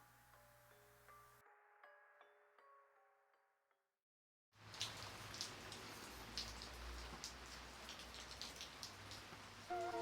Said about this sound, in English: The mist had turned into a light rain